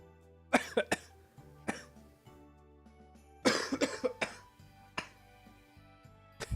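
Repeated coughing fits from a man on a livestream over game background music: a double cough, then a single cough, and after a pause a louder cluster of several hacking coughs, followed by a few scattered coughs, all close and clear.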